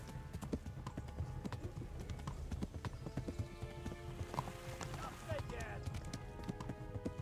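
Horse galloping in Kingdom Come: Deliverance, a fast steady clip-clop of hooves at moderate distance, with faint game sounds and a voice talking over it.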